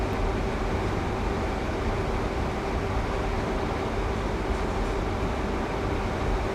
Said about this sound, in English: so I've just idled the power to allow the train to coast